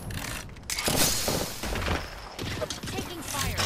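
Rapid gunfire crackles through an Apex Legends firefight alongside thuds and blasts, dense and continuous for several seconds, with a voice talking over the shooting.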